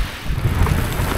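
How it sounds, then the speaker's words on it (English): Wind buffets the microphone on a Scottish enduro mountain bike trail, a steady broadband roar with low rumbling gusts through the short stretch and no talk. "Man, it's windy, eh?"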